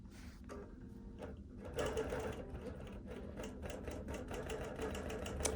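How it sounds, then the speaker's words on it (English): A sewing machine stitching while couching a thread down onto fabric, heard as a quiet, steady rapid whirring chatter that starts softer and becomes a little more even and continuous after a moment. "I'm just going to kind of give it a little bit of slack as it stitches across the machine here"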